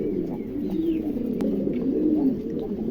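Lakkha pigeons coo softly in low, rolling throaty calls, close by and continuous, with a faint chirp in the background.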